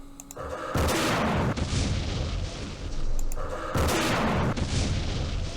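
Recoilless rifle fire in the Campaign Series Middle East war game comes as two heavy, loud blasts a few seconds apart, each a sustained roaring boom with a rumbling tail and no voices.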